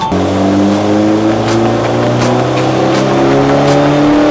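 A loud, remapped car engine with an F55 turbo, Super Four cam and pump and GTX injectors revs hard, its pitch climbing steadily with harsh turbo roar and crackles, close and continuous throughout.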